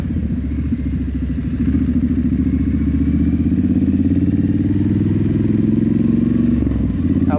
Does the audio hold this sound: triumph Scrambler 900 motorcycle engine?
yes